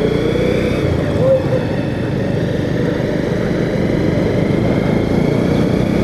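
A Bajaj Pulsar 150 motorcycle engine idles steadily and loudly up close, a continuous rough droning hum that holds an even level throughout.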